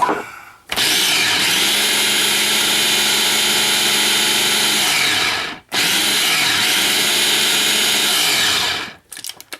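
Electric kitchen appliance grinding orange zest for a roast duck, a loud, close, steady whirring drone running in two long bursts separated by a brief pause, with no talk.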